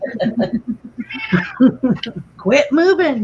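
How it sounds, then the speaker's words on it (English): An elderly cat with hyperthyroidism yowls in a run of short, choppy meows that build into a drawn-out, wailing caterwaul, close and loud, while a person speaks briefly over it. "that was my cat having a conniption fit."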